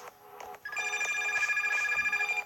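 A telephone ringing in the Pizza Factory Tycoon video game, an electronic ringtone that starts with a few short tones and then trills continuously and loudly with no voices.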